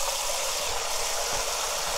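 Cold tap water runs steadily while LA galbi beef ribs are rinsed in a kitchen, a continuous rushing hiss with no pauses or talk.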